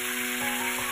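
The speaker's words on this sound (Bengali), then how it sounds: "কেটে রাখা, টুকরো করে কেটে রাখা আলুগুলো এখন তেলের মধ্যে দিয়ে দেবো।" Cut potato pieces fry in hot oil in a pan, giving a loud, steady, close sizzle with no pauses.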